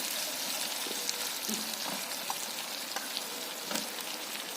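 Capsicum sizzles with potatoes frying in a pan, a soft, even crackle with faint scattered pops and light stirring noises throughout, quiet and close with no talking.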